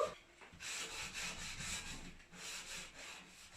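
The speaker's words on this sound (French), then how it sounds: "Donc je passe mon petit tampon pro partout." A cleaning pad rubs back and forth over white wooden furniture during a renovation clean, giving a steady, faint scrubbing hiss in repeated strokes.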